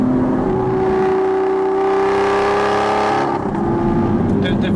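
Aston Martin V12 Vantage S engine on the move, a loud sustained drone and whir that shifts pitch and eases off near the end.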